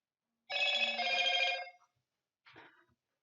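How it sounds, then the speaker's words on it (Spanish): A mobile phone rings during a classroom lecture: one steady electronic ringtone burst of about a second, then a short, fainter follow-up sound, with no talking. "Esperen que voy a apagar el celular"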